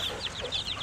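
Fancy backyard flock chickens clucking in quick, soft, chattering bursts close by, a steady run of short calls with no talking.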